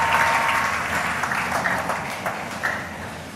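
A church congregation claps together in a sustained wave of applause that swells early, then gradually thins and fades, with faint voices underneath.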